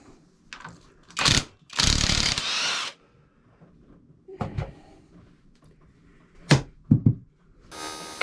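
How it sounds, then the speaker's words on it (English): A ratchet working on bolts of a Kawasaki GTR 1000 motorcycle swing arm, heard as several separate bursts of clicking and metallic handling with quiet gaps between, close and fairly loud. "so that's those bolts undone"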